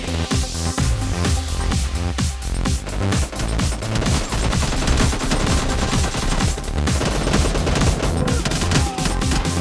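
AKM rifle fire in a video game, a sustained barrage of loud rapid shots close by that continues almost unbroken for nearly ten seconds, with overlapping bursts and impacts.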